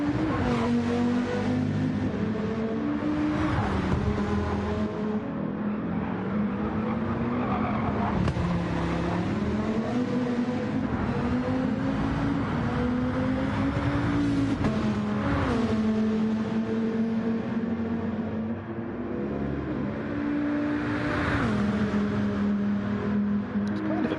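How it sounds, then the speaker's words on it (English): Supercharged-sounding White Viper race car in a racing game, engine whining loudly and continuously, pitch rising and falling through gear changes, with tire noise and other cars mixed in, no voices. "bit of a whine there from the White Viper. I wonder if it's supercharged."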